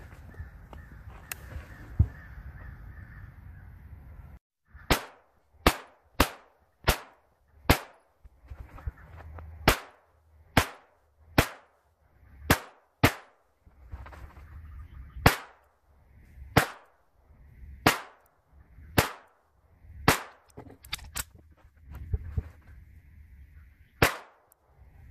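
A Ruger PC Charger pistol firing Browning 124-grain ball ammunition at an outdoor range, about twenty sharp, loud shots at a steady deliberate pace, each with a short echo, after a brief moment of quiet.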